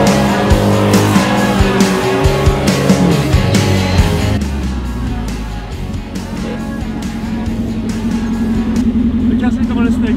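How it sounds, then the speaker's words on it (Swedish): Car engine running after a makeshift repair with tape and branches, a loud steady drone with strong harmonics and changing pitch as the revs shift, with people talking over it. "Och bilen går som en klocka."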